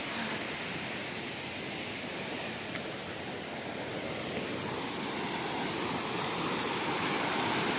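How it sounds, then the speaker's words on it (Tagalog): A river near an off-road overnight campsite rushes with a constant, loud, broadband roar of flowing water, unbroken and close throughout, with no voices over it. "Ilog, oh."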